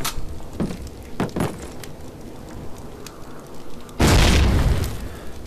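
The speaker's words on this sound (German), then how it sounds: "Ging die Explosion hoch." In the video game Call of Duty: United Offensive, a few sharp pops and clicks, then a loud booming explosion bursts in and rumbles before fading.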